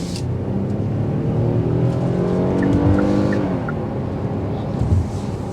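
A 2024 Kia Telluride SX accelerating hard on a road test drive, heard from inside: a loud engine note rising steadily in pitch as the revs climb, with tyre and road noise underneath and no talking.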